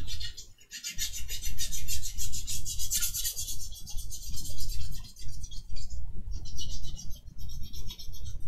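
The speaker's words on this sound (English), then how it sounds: "Before I stick this, actually I want to sand down further because this is actually quite rough over here." Sanding a rough area on the front skirt of a model kit, a continuous close rasping scrape in rhythmic back-and-forth strokes, loud and steady with brief breaks.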